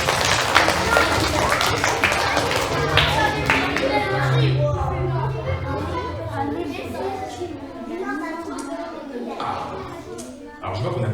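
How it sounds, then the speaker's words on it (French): A children's audience at a live magic show applauds and cheers, a dense, steady wash of clapping with chatter and voices mixed through it, continuing near and loud throughout. "Bravo, vous pouvez vous applaudir"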